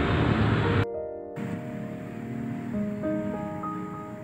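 River water flows with a steady, soft rushing hiss throughout, broken by a brief dip in sound early on and accompanied by a faint tonal hum.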